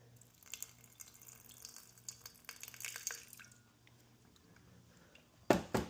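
Water poured from a tap or vessel into a sourdough starter jar, soft splashes and trickles up close, then a brief louder gush right at the end.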